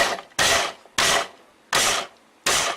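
A food processor pulsing cauliflower whirs in four short, loud pulses, each lasting about a third of a second, separated by brief pauses.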